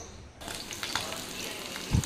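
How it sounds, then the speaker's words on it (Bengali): Fish fries in hot oil with a steady, close sizzle that starts abruptly and continues throughout, with a soft thump near the end. "মাছটা বেশ লাল লাল করে ভাজা হয়েছে আর মাছটা ভাঙেওনি"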